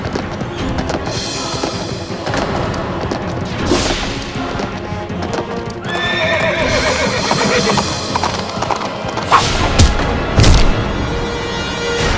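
Horse hooves clip-clopping amid loud dramatic action, with neighs and whinnies, crashing thuds and whacks layered over a busy soundtrack, sustained and close throughout.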